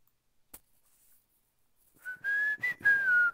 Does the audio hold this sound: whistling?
yes